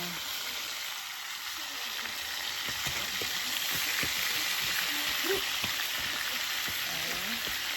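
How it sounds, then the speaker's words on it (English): Constant crackling sizzle of chicken frying in hot oil outdoors, close and steady throughout, with occasional faint pops and scrapes. "so we're frying chicken"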